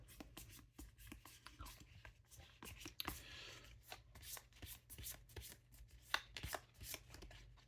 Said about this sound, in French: On va se mélanger le paquet.